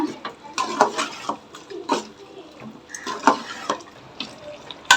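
Clinking and scraping of a utensil against a metal pot while mixing chicken with yogurt for biryani, in irregular bursts, with soft wet stirring sounds between.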